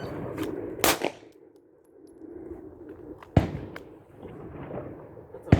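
Handgun shots at an indoor gun range, fired at a center-mass target: sharp, loud single reports at uneven intervals, with a faint echo and some low background noise between them.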